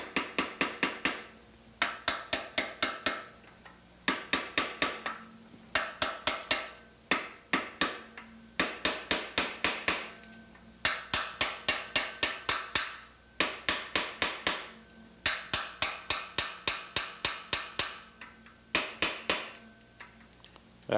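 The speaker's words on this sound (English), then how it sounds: "sometimes it helps to have a hammer around in order to tap it in just slightly" A hammer tapping a key into a keyway: long series of sharp, ringing metallic taps in quick clusters separated by short pauses, close and clear, with no talk.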